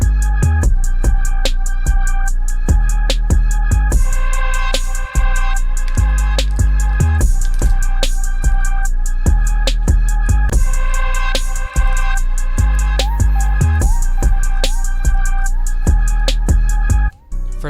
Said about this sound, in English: I'm going to play a snippet of the finished beat